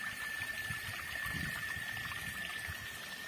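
A small waterfall stream on a farm in the countryside, water trickling and splashing steadily and close by with no voices over it.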